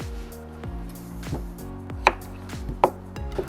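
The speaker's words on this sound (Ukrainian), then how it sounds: "Зараз необхідно нарізати цибулю" A knife chops onion on a board, a few distinct close knocks spaced irregularly over a quiet background, without speech.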